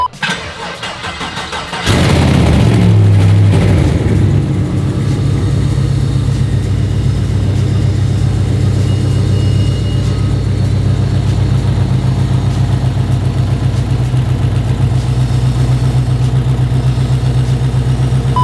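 A 1996 Impala's engine cranks and catches, then settles into a loud, steady rumbling idle that holds for the rest of the clip.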